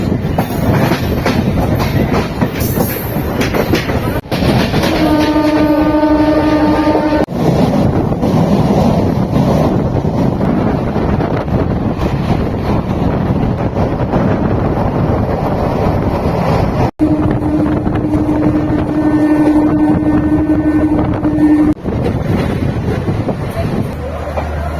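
An Adra–Asansol MEMU train pulls out of Burnpur station with a loud, steady rumble of wheels and carriages, heavy wind noise on the microphone, and two sustained horn blasts sounding midway and near the end.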